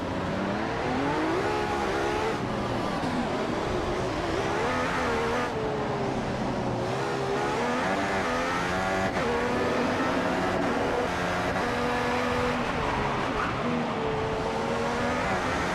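Formula 1 cars race at Monaco in F1 2015, with high-pitched engines screaming continuously and loudly as they rise and fall through gear changes. Overlapping engine notes from several cars weave together without pause.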